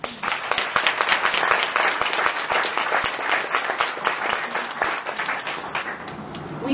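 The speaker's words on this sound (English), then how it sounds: "So a round of applause for that." A crowd at a fellowship graduation celebration breaks into sustained applause, dense clapping from many hands that stays loud throughout and eases slightly toward the end.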